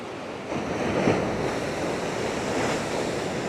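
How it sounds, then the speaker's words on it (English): Big ocean waves crash continuously on the beach at Nazaré, a steady roaring wash of surf with a swell around the one-second mark, carried by some wind noise on the microphone and no voices. "Sound of them waves is just dead therapeutic."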